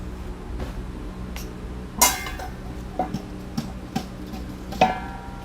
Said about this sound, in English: let me stir real quick